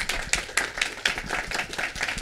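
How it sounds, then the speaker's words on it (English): Scattered clapping from a modest audience at the close of a social justice series talk by Dr. Faye Wachs, uneven and fairly close, with individual hand claps standing out in a loose rhythm. "Can we give Faye a big round of applause?"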